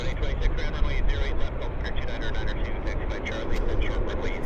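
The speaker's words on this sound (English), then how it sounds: "Got the jumbo. Lufthansa." Lufthansa Boeing 747 jumbo jet at Vancouver Airport, a steady broad jet roar holding throughout at moderate distance, with voices talking over it.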